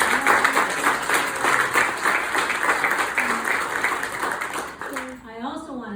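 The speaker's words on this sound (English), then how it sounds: "So I'd like to give them a round of applause." A crowd at a community campaign launch party applauds steadily, the clapping fading toward the end as a voice begins speaking.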